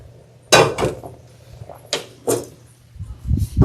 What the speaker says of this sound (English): I'm going to switch pots because I need my oil